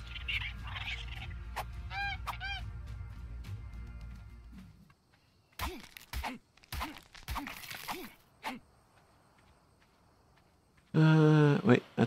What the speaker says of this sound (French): C'est les dindons qui font ce bruit bizarre.